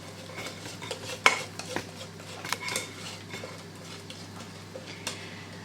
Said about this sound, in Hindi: जल्दी जल्दी इसको भी मिक्स कर लेते हैं